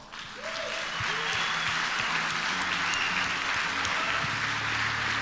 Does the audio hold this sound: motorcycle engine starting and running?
no